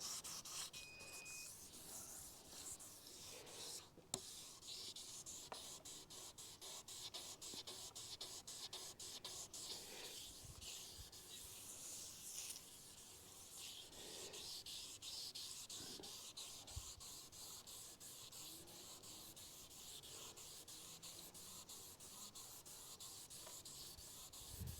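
Hand sanding rubs down spray putty on a car body's panel, a steady close scratching with rhythmic strokes that runs continuously, with no voices.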